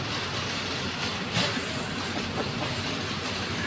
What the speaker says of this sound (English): Well, just a train getting past there. Two trains going by.